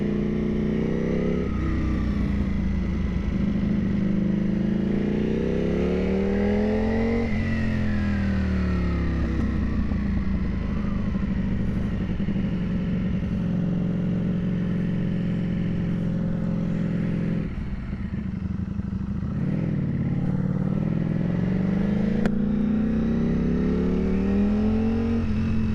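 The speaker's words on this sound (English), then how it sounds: "I bought an Arrow exhaust. I really love the Arrow sound. It's a little louder." Motorcycle fitted with an aftermarket Arrow exhaust, revving repeatedly up and down close by, each rise a rising engine whine that drops back to a rumbling idle, loud and alone without talk.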